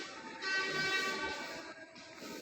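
A flower-decorated train on the Jamuna railway bridge in Bangladesh at its inauguration, a steady distant rumble with a sustained horn-like tone swelling and fading, faint throughout.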